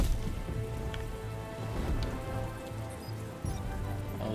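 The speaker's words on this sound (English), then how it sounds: "Oh, the rain effect is so cool." Rain falls in Batman: The Telltale Series video game as a soft, continuous patter of drops, faint and even throughout, with no one talking.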